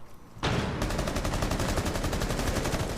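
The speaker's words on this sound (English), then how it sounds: "Shots coming down through the walls." Rapid automatic gunfire crackles in dense, steady bursts during a competitive online shooter match in a challenger-league esports broadcast. It starts after a brief quiet moment and then continues without a break to the end.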